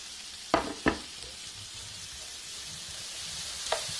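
Mirepoix and wild rabbit cook in a pan with a soft, steady sizzle, broken by two quick clattering stirs early on and another near the end.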